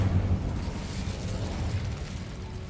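The Incendio fire spell in the Hogwarts Legacy video game, heard as a sustained, rumbling burst of flame that roars loudly at first and then continues as a steady, slightly fading crackling whoosh.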